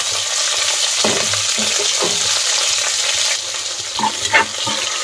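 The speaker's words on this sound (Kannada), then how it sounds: "ಈರುಳ್ಳಿ ಮತ್ತು ಹಸಿಮೆಣ್ಸಿನ್ಕಾಯಿನ ಹಾಕ್ತಾ ಇದ್ದೀನಿ" Onion and green chillies frying in a pan for egg biryani: a close, constant sizzle broken by a few sharp scraping stirs spaced through the stretch.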